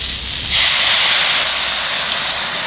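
White wine poured into a hot pan of searing mushrooms sets off a sudden loud hiss and sizzle that bursts in and then holds as a steady, bright steaming crackle.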